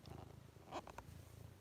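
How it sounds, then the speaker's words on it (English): Cat purring close up, a faint low rhythmic rumble running throughout, briefly broken by a couple of soft sounds partway through. "He's purring. He's a happy boy."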